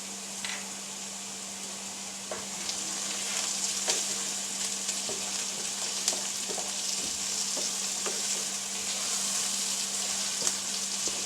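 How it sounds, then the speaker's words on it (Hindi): Tomatoes seasoned with black pepper, red chilli and salt fry in a pan for shakshuka, giving a steady close sizzle with scattered clicks and scrapes of stirring throughout. "साथ ही मैं इसमें काली मिर्च, सुरख मिर्च और नमक डाल दूंगी और इसको हम अच्छी तरह से भून लेंगे।"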